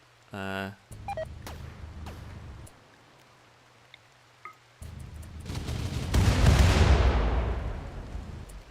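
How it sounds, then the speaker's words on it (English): Battle sounds from the Rimworld colony game: a short tonal beep, then scattered pops and thuds before a heavy rumbling blast swells and fades, with a voice talking over part of it. "That's a lot of explosions."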